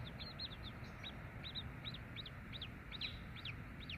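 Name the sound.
chickens clucking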